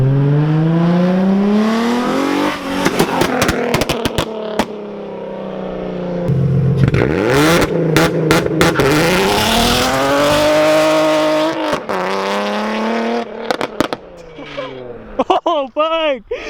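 A Nissan G35/350Z fitted with a Tomei exhaust revs hard and accelerates, rising and falling in pitch through several pulls, with a short crackle at the end and people talking excitedly over it.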